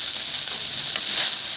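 Pork sautés for pinakbet in a pan, a dense steady hiss of sizzling oil heard close and fairly loud throughout, with no voices over it.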